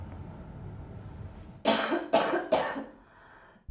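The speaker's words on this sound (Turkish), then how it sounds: "İnatçı öksürük en çok çocuklarda görülüyor." Three loud, sharp coughs in quick succession, close to the microphone against a quiet background, with a faint throat sound after.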